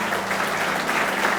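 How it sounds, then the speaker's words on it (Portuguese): A church congregation claps loudly and steadily during a worship service, a dense wash of applause that holds evenly throughout. "Aplauda bem forte Jesus."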